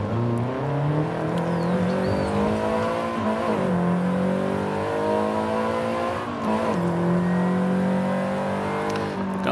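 A 1971 Lotus Elan Sprint, rear-drive with a four-speed gearbox, revs and pulls away in first gear, its engine note rising steadily and continuously close by with no voices.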